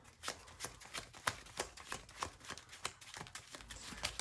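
Rapid papery riffling in repeated quick bursts, about a dozen crisp flutters close by, as a deck of Marvel Champions cards is shuffled over and over.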